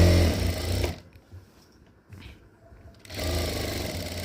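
A sewing machine runs loud and steady as it stitches a V-neck kurti, with two short stitching bursts at the start and end and a quieter stretch of handling noise between them.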